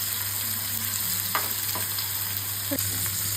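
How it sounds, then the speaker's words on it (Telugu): Onions and bitter gourd frying in a pan, a soft steady sizzle with a few scraping stirs of a spatula at intervals, close and fairly quiet, with no talking. "చూడండి, ప్యాన్లో ఆనియన్స్ కూడా వేసేసుకున్నాము."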